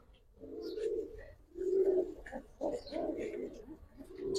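Giribaz and coloured pigeons coo repeatedly in throaty, rolling bursts, several calls in succession close by, with low human voices in the background.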